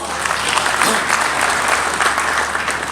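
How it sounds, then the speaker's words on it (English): Sustained applause fills a hall at an infrastructure conference, a broad steady wash of many hands clapping with faint crowd murmur underneath. "I think that deserves a round of applause."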